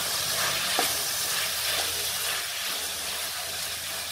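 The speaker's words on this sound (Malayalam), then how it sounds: "ഇനി ഒന്ന് നമുക്ക് നന്നായിട്ടൊന്ന് ഇളക്കാം." Tomato fry being stirred in a pan, hotel-style, with an even sizzle of frying under steady scraping strokes that run the whole time, close and moderately loud with no talking.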